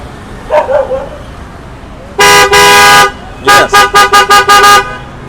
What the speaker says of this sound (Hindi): इसमें फिर हमारे एक क्रेटा वॉइस हॉर्न है।